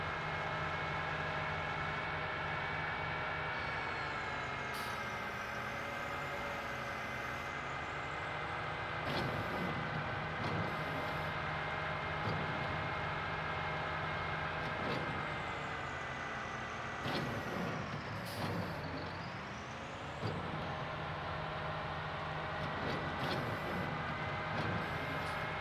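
Truck engine droning steadily in Farming Simulator 19, a continuous even hum with slight pitch shifts and a few brief clicks and knocks layered on top.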